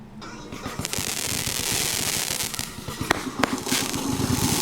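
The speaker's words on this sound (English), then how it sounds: "what we have here is a different view of the same fireworks." Fourth of July fireworks bursting outdoors, a dense run of sharp crackling pops and booms with a few louder bangs standing out, steady and fairly close throughout.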